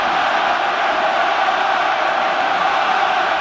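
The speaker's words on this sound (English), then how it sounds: "Crowd right behind Ireland here." A packed rugby stadium roars for Ireland against New Zealand, a dense continuous wall of cheering and shouting that stays loud and even throughout.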